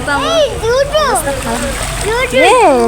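Feet slosh and splash through ankle-deep floodwater pooled in a waterlogged lane, the splashing mixed under close, lively talk from an adult and a child.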